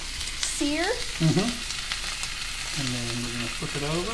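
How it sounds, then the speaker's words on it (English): A steak sears in a cast iron pan, its steady hissing sizzle running beneath a person talking close by. "Okay, so we're letting it sear."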